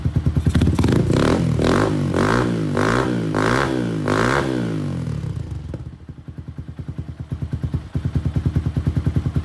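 A KP Mini 150 motorcycle with an aftermarket exhaust revs hard close up in a series of rising bursts, then settles into a rhythmic, popping idle.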